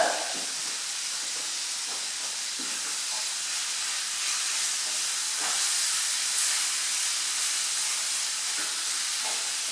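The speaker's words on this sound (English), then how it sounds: "I can hear that my lamb is really sizzling now" Spiced lamb sizzles steadily in a pan, a continuous bright hiss that stays loud throughout with faint occasional clicks and no talking.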